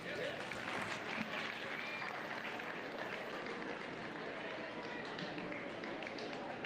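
Audience applause fills the arena at a 4-H goat show in Monroe County, a steady, dense wash of clapping from a crowd that carries on unbroken throughout, with a voice or two faintly mixed in.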